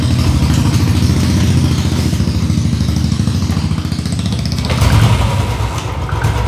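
A Royal Enfield BS4 motorcycle with a pickup problem runs loud and close, its single-cylinder engine thumping in a steady idle throb with mechanical clatter throughout.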